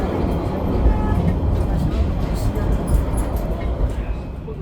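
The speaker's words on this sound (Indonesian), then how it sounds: "Mengucapkan selamat datang di kereta api Dharma Wangsa Express yang akan mengantarkan kita ke tujuan akhir stasiun Pasar Senen." Dharmawangsa Express train on its night run between Surabaya and Jakarta, a loud steady rumble of the moving carriage throughout, heard from inside with faint rattles above it.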